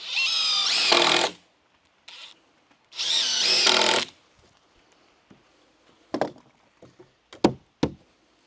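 A power drill drives 2.5-inch screws at an angle into the wood of a barrel sauna: two loud whirring bursts about a second each, then scattered light knocks and clicks of handling, with no talk.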